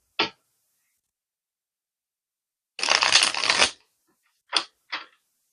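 Tarot cards are shuffled up close: a short riffle, then a longer burst of rapid fluttering card noise, followed by two quick snaps, with silence between.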